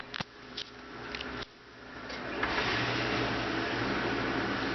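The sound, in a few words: dishwasher running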